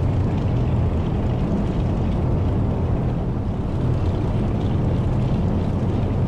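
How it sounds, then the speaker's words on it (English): Piston engines of a DC-3 warm up in a flight simulator game, a steady dense drone that stays loud and unchanging throughout, with no voices over it. "I'm going to put in a quick break while I warm up the engines."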